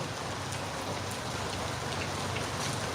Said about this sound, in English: and the rain kept going now.